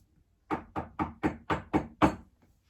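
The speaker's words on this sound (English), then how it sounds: "then 15 minutes later or so, I hear a knock." Seven evenly spaced knocks on a door, crisp and fairly close, in an otherwise quiet room.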